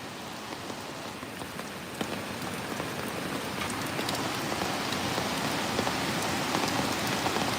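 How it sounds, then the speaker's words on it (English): Steady rain pours down outdoors in the Philippines while fish is grilled, a dense even hiss of drops hitting surfaces that swells slightly louder midway and continues without pause. "I'm grilling fish in the rain."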